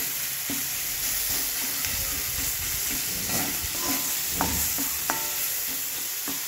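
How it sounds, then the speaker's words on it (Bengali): Tomatoes being mashed and stirred with a metal spatula in a hot pan, with steady sizzling and a few sharp scrapes and taps of the spatula against the pan, close up. "তো টমেটোগুলোকে ভালো করে খুন্তি দিয়ে একটু থেতো করে দিচ্ছি"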